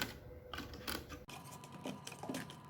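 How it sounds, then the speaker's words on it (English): A band clamp being ratcheted tight around a wooden case for glue-up, giving close, quiet mechanical clicking and ratchet catches in short bursts over a couple of seconds. "I'm just going to pull this band clamp up a little bit."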